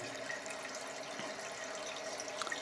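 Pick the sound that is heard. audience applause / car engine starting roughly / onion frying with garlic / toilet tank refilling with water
toilet tank refilling with water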